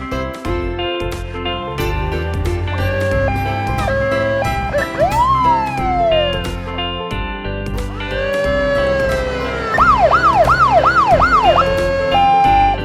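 A cartoon police car siren wails loudly and continuously, rising and falling, then warbling rapidly, over an upbeat children's music track.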